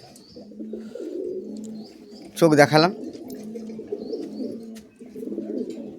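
Giribaj pigeons in a home loft cooing softly in low, repeated murmuring calls, with a brief louder flutter or call midway and people talking nearby.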